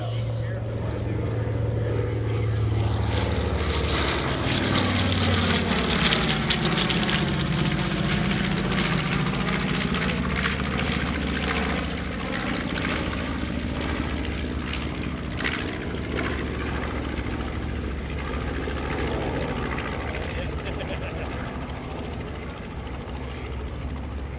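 A B-25D World War II bomber makes a photo pass at an air show, a loud, steady piston-engine roar that builds and sweeps past over about 24 seconds, with faint talk mixed underneath.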